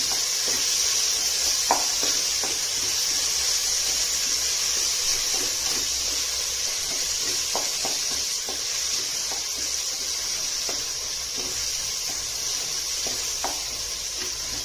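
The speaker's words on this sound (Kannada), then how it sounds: "ಮಸಾಲೆ ಹಾಕ್ಬಿಟ್ಟು ಚೆನ್ನಾಗಿ ಫ್ರೈ ಮಾಡ್ತೀನಿ." Ground masala paste, added to a pan with softened tomato for kuska rice, fries in a steady, fairly loud sizzle throughout, with faint scattered ticks of stirring.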